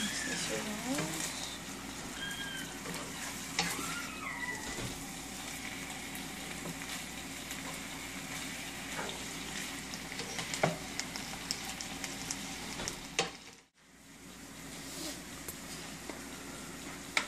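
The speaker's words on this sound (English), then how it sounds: "Going to add the mushrooms and garlic. Mix this around." Mushrooms and garlic frying in a pan give a steady close sizzle, with intermittent scrapes and clatters as they are stirred, a brief dropout near the end, and faint voices beneath.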